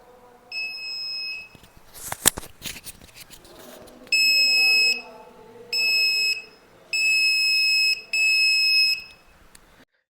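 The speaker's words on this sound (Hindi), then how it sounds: "जब मैं टच सेंसर को टच कर रहा हूं तो हमारा बजर एक्टिवेट हो जाता है" An Arduino Uno buzzer triggered by a touch sensor emits loud, steady electronic beeps in four separate bursts of about a second each, after a brief rattle of handling noises, close and with no talking.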